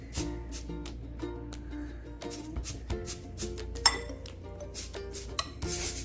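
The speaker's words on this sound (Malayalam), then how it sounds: "കുക്കുംബറും ക്യാരറ്റും നമുക്ക് നന്നായിട്ട് മിക്സ് ചെയ്യാം" Sliced cucumber and carrot are mixed in a bowl, producing light clinks and taps of a utensil against the dish in irregular bursts, close by and fairly quiet, with no voices.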